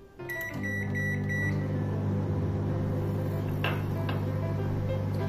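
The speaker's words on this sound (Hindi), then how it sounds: "बस इसे इस तरह से रखिए और 2 मिनट के लिए माइक्रोवेव कीजिए।" A microwave oven roasting peanuts starts up with a click and settles into a steady, loud electric hum, with a couple of faint rattles over the constant drone.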